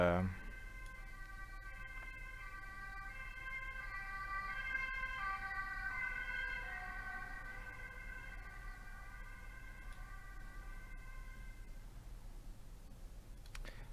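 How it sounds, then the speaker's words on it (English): A passing ambulance siren in the city wails in a repeating high-low pattern, moderately distant, swelling slightly then fading over a low background hum. "sorry for the ambulance noise."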